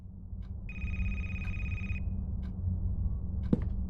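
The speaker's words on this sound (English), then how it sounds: "Well, I hear a phone." A telephone gives one sustained electronic ring of about a second, then falls quiet against a steady low hum, with a few faint clicks and a soft knock near the end.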